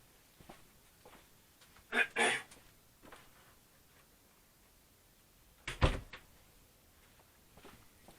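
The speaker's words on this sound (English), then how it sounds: "Just going to shut the door, hang on." A door is pushed shut indoors in a quiet room, giving two short, sharp knocks a few seconds apart against faint background hush.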